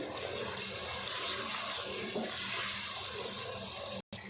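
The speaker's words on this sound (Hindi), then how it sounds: "थोड़ा सा पानी डालेंगे और मसाले को अच्छे से भून लेंगे" Water pours steadily into frying masala of coriander and cumin powder for a mixed chana and mash dal, a continuous hissing, splashing wash close by that cuts off abruptly near the end, with no voices.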